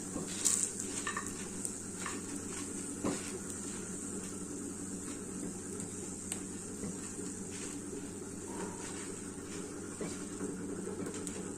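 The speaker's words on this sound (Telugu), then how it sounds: "కొంచెం ఎల్లిపాయలు కూడా వేగాలంటే వేగాలి అంతే పెద్దగా కావద్దు" Garlic fries in a pan of oil for gongura chutney, giving a steady, soft, continuous sizzle with faint stirring clicks and no talking.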